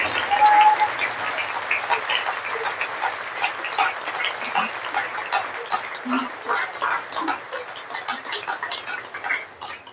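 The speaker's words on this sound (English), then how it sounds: "Please, let's still make the big round of applause." Audience applause at a young writers' award ceremony in the Cayman Islands, a steady round of clapping from a seated crowd lasting about ten seconds and easing off slightly toward the end.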